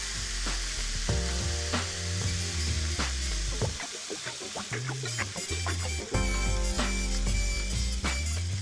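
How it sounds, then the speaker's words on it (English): Cabernet-marinated steaks sear in a hot pan, a loud, steady sizzle with crackling pops and brief clinks of a utensil against the pan. "We're going to let them cook 2 or 3 minutes on each side to get browned"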